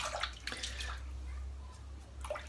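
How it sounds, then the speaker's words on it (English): Water is added to shaving cream during a head shave, a faint soft splashing and dribbling over a steady low hum, with no talking. "I need to put a bit more water into this cream for the next phase because it's a little bit dry"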